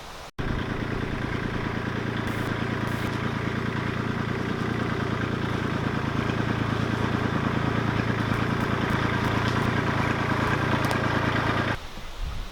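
A homestead tractor engine runs loud and steady close by for most of the time, a rumbling, throbbing drone that starts after a sharp knock and cuts back near the end, with no speech.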